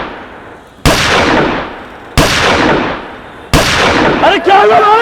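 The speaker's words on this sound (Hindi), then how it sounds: "पटाखों की नहीं है, गोलियों की आवाज़ है शायद।" Three loud gunshots are fired outside at night during a power cut, coming about a second apart as sharp cracks, each followed by a long reverberating decay. A voice briefly shouts after the last shot.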